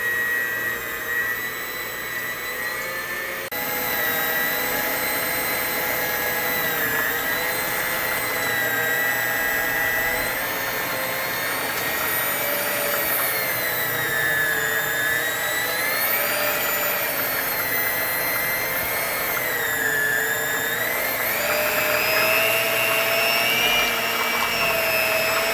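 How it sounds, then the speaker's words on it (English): Electric hand mixer whirring in a bowl of watermelon to draw out the juice, a steady high-pitched motor whine that wavers in pitch as it works, running alone without talk. "You're just going to want to put your hand mixer in."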